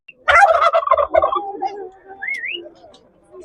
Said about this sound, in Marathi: हे बदक, टर्की